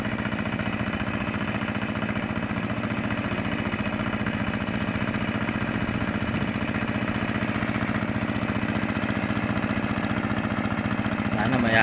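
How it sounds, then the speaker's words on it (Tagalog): A struggling engine runs rough and labored, stuck deep and smoking, with a steady uneven drone continuing throughout at close range. "Nagbabago na andar ng makina ko mga idol."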